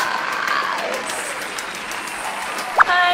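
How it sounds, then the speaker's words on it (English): A small audience claps for guests on a Thai celebrity guessing show, moderate applause that thins out and fades before a sharp brief sound and a voice near the end. "please give them a big round of applause"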